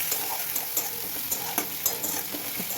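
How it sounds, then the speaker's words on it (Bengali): Onions sizzle softly in a pan as ginger garlic paste is fried in, with a low steady hiss and light intermittent clicks of a spatula stirring, close and without talk. "এবার আমি আর একটু ভালো করে ভেজে নেড়ে ছেড়ে এর মধ্যে আদা রসুন বাটাটা দিয়ে দেবো।"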